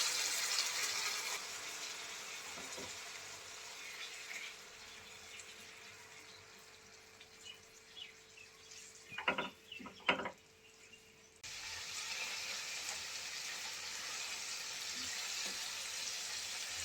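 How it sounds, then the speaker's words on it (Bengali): Water poured into a pan of spiced frying prawns, a steady sizzling hiss that dips and gurgles as liquid goes in, with a couple of brief bubbling bursts before the sizzle returns. "চিংড়ি ভাজা ভাজা হয়ে গিয়েছে এখন অল্প করে একটু পানি দিয়ে দেব"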